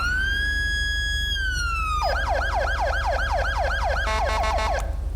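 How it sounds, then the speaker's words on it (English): A Touchmaster Delta police siren on a Los Santos sheriff vehicle in FiveM, GTA V, sounds close and loud: a sustained wail, then a rapid repeating yelp, shifting at the end into a faster stuttering pulse, with no voices. "it has a unique siren. It's the Touchmaster Delta without the scrolling."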